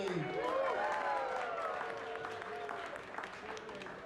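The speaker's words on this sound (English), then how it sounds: "So everyone make a clap for Freddie." An audience at a gathering in Auckland gives a round of clapping for a latecomer, soft and fairly distant applause mixed with voices chattering over it.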